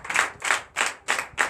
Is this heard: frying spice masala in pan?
no